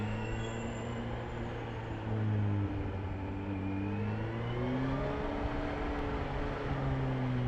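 A Kawasaki ZH2 motorcycle held in first gear gives a steady, fairly quiet engine drone that rises and shifts in pitch as the throttle rolls on smoothly, with no talking.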